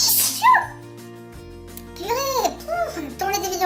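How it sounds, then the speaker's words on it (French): A single sharp sneeze bursts out close by at the start, followed by some brief voiced sounds. "Oh, puis j'ai envie d'éternuer."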